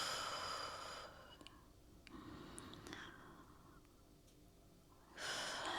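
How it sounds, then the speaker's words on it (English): Deep breathing during a mindful home stretching session, a long airy exhale followed by quieter breaths and a strong inhale near the end, close to the microphone. "Inhale through the nose, exhale out through the mouth."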